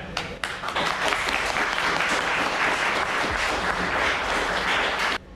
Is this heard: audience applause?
yes